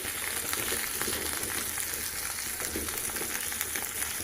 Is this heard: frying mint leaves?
yes